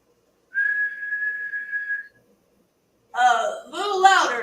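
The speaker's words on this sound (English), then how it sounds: "Now whistle." A person whistles one long, steady sustained note up close, then people talk afterward in an old radio comedy scene.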